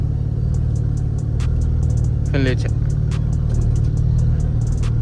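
A V6 Chevrolet Camaro fitted with an 80 mm throttle body gives a loud, close, continuous engine rumble that holds fairly steady, while someone speaks briefly over it.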